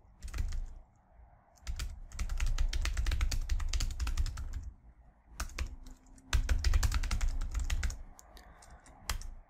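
Fingers type on a computer keyboard in two long bursts of rapid, close key clicks separated by brief pauses, with no talking.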